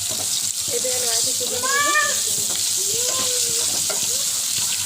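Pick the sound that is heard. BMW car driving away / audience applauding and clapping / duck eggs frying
duck eggs frying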